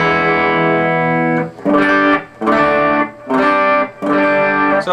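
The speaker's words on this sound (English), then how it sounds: "So this is without auto-tune on." A Peavey AT-200 electric guitar with auto-tune off rings out one sustained clean note, then plays four evenly spaced repeated chords or notes, loud and close.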